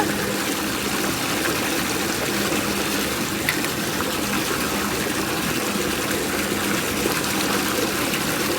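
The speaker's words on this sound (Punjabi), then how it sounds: "ਚਲੋ ਜੀ ਆਪਣੀ ਮੋਟਰ ਚੱਲਣ ਚੱਲਦੀ ਹੈ" A water pump motor runs with a steady low hum underneath a constant, unbroken rush of gushing water throughout.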